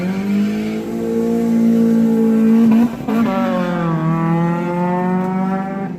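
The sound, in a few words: loud cars revving past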